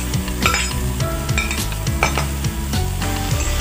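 Fried beetroot, carrot, peas and eggplant go into a hot spiced pan for a winter vegetable and soybean dish, crackling in a steady close sizzle with spatula scrapes and clinks against the pan and no talking.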